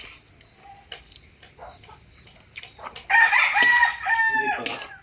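Backyard chickens cluck softly and scratch about, then a rooster lets out a loud, close crow near the middle of the clip, followed by more clucking.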